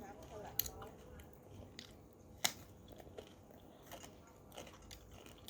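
Someone chewing and eating homemade Thai pork larb, with soft wet chewing and a few sharp crunchy bites standing out, fairly close but quiet, with low background murmur.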